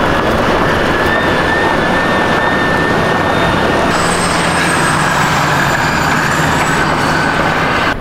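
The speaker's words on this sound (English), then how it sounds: "That is a fresh truck, bro." A large all-terrain truck passing by, a loud, steady engine drone with a whining tone that shifts upward midway as it goes past, filling the whole moment without voices.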